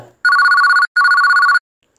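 A telephone rings twice in two loud, buzzing electronic bursts separated by a short pause, close and clear against silence.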